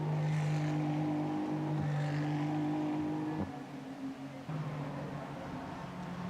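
A Ferrari GT3 race car passes on the Suzuka circuit during a Japan Cup race, its engine note droning steadily at moderate distance, fairly faint, then shifting as it goes by, with no talk.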